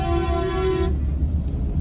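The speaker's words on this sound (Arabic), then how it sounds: "ده مش بيزمر لنا" A car horn sounds in heavy city traffic while driving, a steady loud toot held for about a second that cuts off abruptly, leaving the low rumble of the road.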